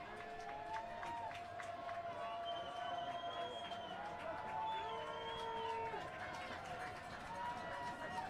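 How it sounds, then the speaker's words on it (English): Home football crowd at a San Clemente versus Murrieta Valley game cheering and roaring in the distance, a steady wash of voices and shouts with whistles, while an announcer talks over it. "San Clemente crowd getting a little amped up."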